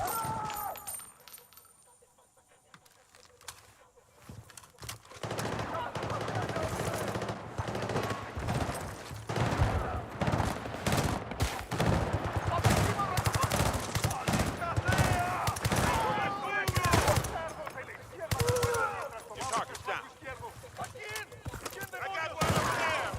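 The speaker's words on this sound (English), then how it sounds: "This is where having a silenced gun comes in super handy." Suppressed gunfire in the video game Battlefield 6, rapid muffled shot bursts and clatter following a quiet opening, layered with game effects while someone talks over much of it.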